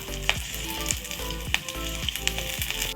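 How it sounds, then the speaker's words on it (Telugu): Green chillies frying in hot oil in a home kitchen pan, a steady close sizzle with occasional stirring scrapes and crackles throughout, no talking. "ఆయిల్ వేసుకొని పచ్చిమిర్చిని ఫ్రై చేసుకుందాము"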